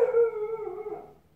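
Dogs and a puppy next door howl and whimper in a single drawn-out, wavering cry that fades away quickly.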